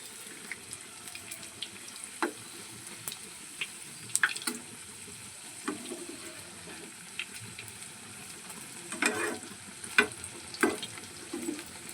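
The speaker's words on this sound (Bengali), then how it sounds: "একটু ভাজা হয়ে গেছে এবারে উল্টে দিচ্ছি" Potato and egg tiffin frying in hot oil in a pan: a quiet, continuous sizzle broken by scattered sharp crackles and pops spread across the stretch.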